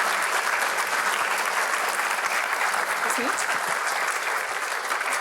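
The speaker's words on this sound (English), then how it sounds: "Please give her another round of applause." Steady, dense applause from a symposium audience continues throughout at an even level, with a brief spoken remark from one person partway through.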